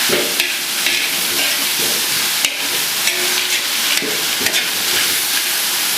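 Vegetarian protein frying loudly in a pan for a basil stir-fry, a dense continuous sizzle broken by sharp scrapes and taps of stirring.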